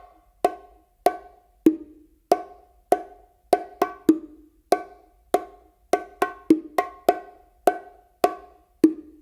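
Bongos played by hand in a repeating pattern, sharp slaps and an open tone right after the hit on the hembra; about eighteen crisp, close strikes with short ringing decay, no talking.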